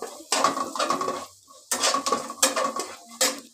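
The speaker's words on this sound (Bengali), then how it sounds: "এবার রসুন কুচিটাকে আমি ভেজে নিচ্ছি।" Chopped garlic fries in a pan on a gas stove, with a light sizzle under bursts of a metal spoon scraping and clinking against the pan. The stirring comes in short, separated strokes with brief near-silent gaps between them.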